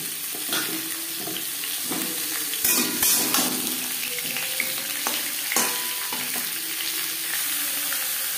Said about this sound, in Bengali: জিরে তেজপাতা ভেজে নেওয়ার পর দিয়ে দেব পেঁপে।